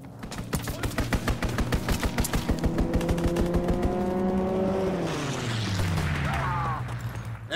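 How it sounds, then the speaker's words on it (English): Rapid-fire gunfire from an enemy aircraft strafing run in Call of Duty WWII, a dense loud burst of rhythmic shots over engine drone that fades as the plane roars past. "Enemy strafing run inbound!"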